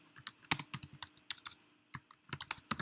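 Rapid keystrokes on a computer keyboard as JavaScript code is typed, clattering in quick uneven bursts with a brief pause in the middle, close and clear with no talking.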